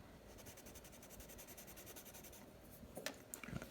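Soft, rapid scratching of a 6B pencil drawing lines on paper, a steady rhythmic stroking close by and faint, ending in a few brief taps.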